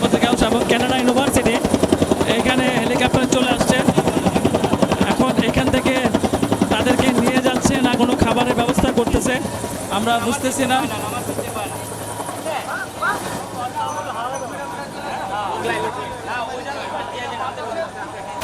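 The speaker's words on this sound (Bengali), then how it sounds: "বাংলাদেশ এয়ারফোর্সের হেলিকপ্টার দেখতে পাচ্ছেন আপনি" A Bangladesh Air Force helicopter flies overhead during a street protest in Rampura, Dhaka, its loud rotor chop steady and close for about nine seconds before fading, while a crowd chatters and people talk throughout.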